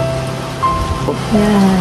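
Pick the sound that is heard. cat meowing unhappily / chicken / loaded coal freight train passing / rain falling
rain falling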